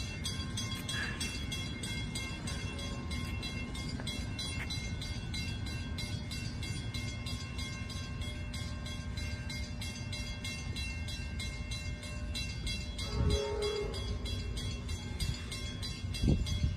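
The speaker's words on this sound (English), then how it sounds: "here comes Amtrak 723" Amtrak 723, led by an F59PHI locomotive, arrives at Fremont Centerville station with a steady rolling rumble of railcars, a distant horn blast sounding partway through and clacking growing louder toward the end.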